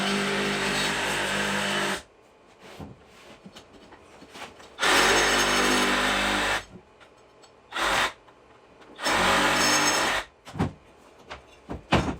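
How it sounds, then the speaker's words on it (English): Sawzall reciprocating saw cutting around a tire bead on a Jacobsen Chief 1200, loud buzzing bursts of a few seconds each with quiet gaps and faint clatter between, close up. "took the Sawzall, cut around to get this bead off"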